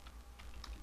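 Brief, faint typing on a computer keyboard: a few soft, quick key taps against quiet room noise.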